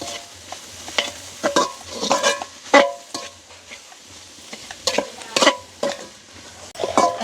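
Tinned fish curry mixture being stirred and turned in a frying pan, with a steady sizzle under repeated scraping strokes of a spoon against the metal, loud and close.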